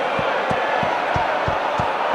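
A Welsh rugby crowd in the Rugby 08 video game roars as a continuous wash of cheering, with regular low thumps pulsing beneath the steady stadium noise.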